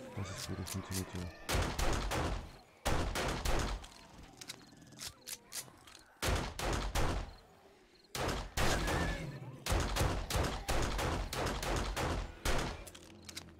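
Rapid bursts of handgun fire from the 7 Days to Die video game during a horde night, repeated volleys of sharp shots in clusters with short pauses between them, loud and close.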